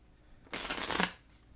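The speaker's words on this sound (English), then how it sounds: "Next, shuffle the deck." A deck of cards riffled once during setup of a tabletop game, a brief soft crackling burst of about half a second, close and quiet, with no voices.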